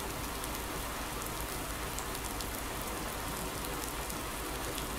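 Steady rain falls in a farming simulator set in Thuringia, a dense, even hiss of drops on surfaces that holds at the same level throughout, with no voices over it.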